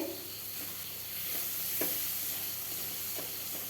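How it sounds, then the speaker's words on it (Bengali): Masala spices frying in oil for a Bengali fish curry, a steady close sizzle with soft stirring scrapes from a spoon in the pan, continuous and without talk. "মশলার থেকে কাঁচা গন্ধ যেন চলে যায় এইভাবে ভাজতেই থাকবো"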